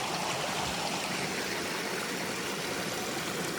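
Creek along the Appalachian Trail near Hurricane Mountain Shelter, running high with a lot of water, rushes in a steady, broad, close hiss that carries on unbroken, with no voices.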